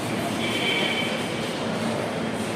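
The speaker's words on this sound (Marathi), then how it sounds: "ही अशी मेट्रो आहे." An Ahmedabad metro train rumbles past with a steady, loud roar and a thin metallic squeal running above it, briefly and close by.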